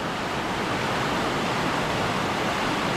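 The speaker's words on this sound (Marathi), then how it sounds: "समोर पाहू शकता पाणी किती उधळतंय ते" A river swollen by monsoon floods rushes past in a loud, unbroken roar of churning water, steady throughout with no voices.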